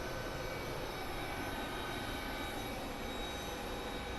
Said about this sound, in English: That is the American Airlines flight that's headed to London.